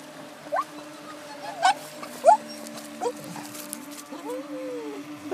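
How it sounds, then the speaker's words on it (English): A dog gives a series of odd, squeaky yipping barks, about five sharp bursts spaced through the stretch, with a steady motor whine from a remote-control boat humming underneath. "I've never heard a bark like that."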